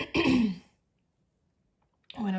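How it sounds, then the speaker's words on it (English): A person clears their throat with short, raspy bursts, followed by a long silence and then another brief vocal sound, close and fairly loud. "I have to clear my throat a lot"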